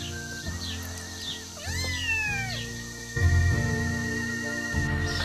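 Kittens meow repeatedly in a Corfu setting, giving high, wavering cries in quick succession with one longer caterwaul in the middle. A steady background hum and faint whistling run underneath.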